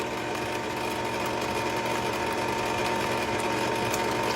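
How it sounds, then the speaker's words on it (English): An electric mixer runs on high while mixing sour cream coconut cake batter, a loud steady motorized whir that holds constant without pause. "Having this mixer on high, it has slung batter every which way."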